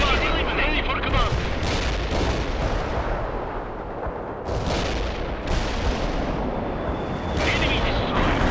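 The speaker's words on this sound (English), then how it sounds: "The cluster bomb didn't hit any hostiles." Cluster bomb strike in the World in Conflict war game, heard as dense rolling explosions and rattling gunfire-like blasts that fill the clip continuously, loud and close, with brief louder bursts.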